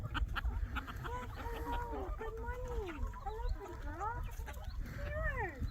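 Farm chickens clucking and murmuring continuously in a flock, several birds close by with overlapping rising and falling calls over steady barnyard background noise.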